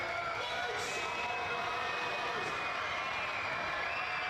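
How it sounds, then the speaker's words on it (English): A basketball crowd in Bendigo at a WNBL women's game, Bendigo Spirit against UC Capitals, roars in a dense, continuous wash of cheering and shouting that fills the arena without a break. "Bendigo crowd in full voice"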